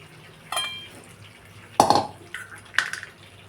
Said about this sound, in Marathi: मी आता हे कढईमध्येच अंडे फोडून घेते